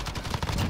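Rapid automatic fire from an AUG rifle in Call of Duty: Modern Warfare: a quick burst of close, loud gunshots in a dense, steady rhythm.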